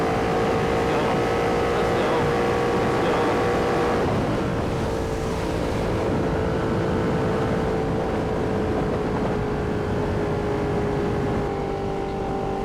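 A Ducati Panigale V2 motorcycle on the move, its loud engine droning steadily throughout with a sustained tonal whine that dips slightly around the middle, close and continuous, with wind rush mixed in.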